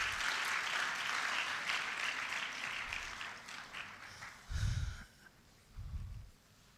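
Quiet applause from the audience at a breast cancer awareness durbar, fading gradually, with a couple of low thumps near the end.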